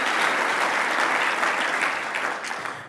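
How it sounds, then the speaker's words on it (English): A conference crowd at an entrepreneurs' event in Philadelphia gives a chair a round of applause, with loud, dense clapping that holds steady and tapers slightly at the close. "big round of applause?"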